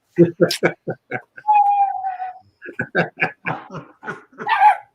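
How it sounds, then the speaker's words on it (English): A dog barks and yips indoors amid talk, with a drawn-out whine-like tone in the middle and people speaking close by throughout. "the dog barks"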